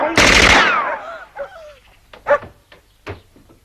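Sharp burst of rapid automatic gunfire in a Croatian film scene, loud and close at first, then giving way to excited voices talking and shouting.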